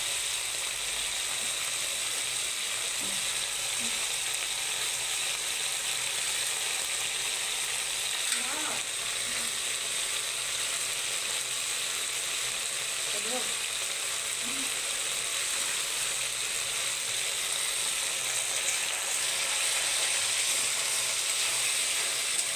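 Fish curry spice paste with turmeric fries steadily in oil, a continuous close sizzle and hiss with occasional faint stirring taps, no talking.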